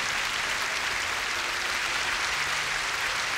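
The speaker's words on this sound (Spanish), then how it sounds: "Un aplauso para Jesús." Steady applause from a church congregation during a faith show, a dense, even wash of clapping that holds at moderate volume throughout with no voices on top.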